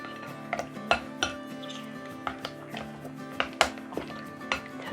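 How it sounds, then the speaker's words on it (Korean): A spoon scrapes and clinks against a bowl while mung bean pancake batter is mixed, giving irregular sharp taps over a low, continuous hum. "이렇게 잘 가루와 재료들이 섞이도록 이렇게 섞어주세요"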